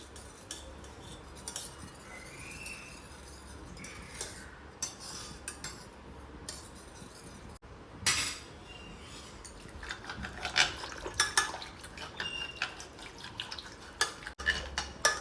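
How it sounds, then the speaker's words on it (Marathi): Cooked dal being mashed with a spoon in a pot, with steady scraping and rubbing strokes and occasional metallic clinks of the spoon against the vessel, close and moderately loud throughout, with no talking. "डाळ आपली छानपैकी मऊ अशी शिजून झाली. तिला आपण चमच्यानेच घोटून घेऊ."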